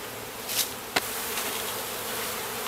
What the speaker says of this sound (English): Notice all the bees here coming foraging back and forth to their old hive.